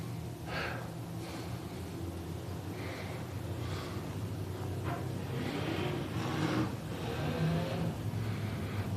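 The 31M dirt-track race car of Mason Martin rolls up at Big O Speedway on a Friday night, its engine a steady low rumble that grows slightly louder toward the end, with faint breathy noises over the top.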